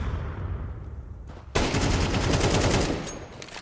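Gunfire in a Counter-Strike 2 firefight, a short burst of clicks and taps that breaks into a loud, dense stream of rapid shots continuing for a couple of seconds, close and without voices.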